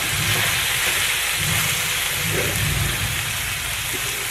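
Chicken patties sear in a hot pan, giving a dense, steady sizzle and crackle that stays close and continuous throughout, with no voices over it.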